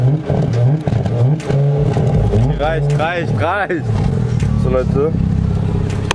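A car pulls away with rising engine revs on the way to a designer outlet in Roermond, under continuous close talking by a voice over the engine.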